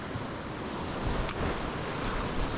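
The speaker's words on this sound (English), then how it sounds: "all this wave and all this surf" Waves and surf wash steadily at the water's edge of a bass fishing spot, a dense, continuous roar mixed with wind noise on the microphone, with no voices.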